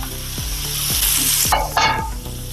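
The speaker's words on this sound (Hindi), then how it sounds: "थोड़ा सा इसको भूनेंगे प्याज को।" Finely chopped onions and cumin seeds frying in hot oil for matar paneer give a loud, continuous sizzle, broken by a few scraping strokes of a stirring spoon. No one speaks.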